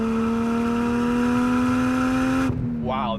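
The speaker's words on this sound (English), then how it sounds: "Can't get over that exhaust noise." A Toyota Chaser sedan's exhaust holds a loud, steady high-rpm drone with a rising pitch, then cuts off sharply as the throttle lifts and the engine falls back toward idle. Close and dominant, with no talk.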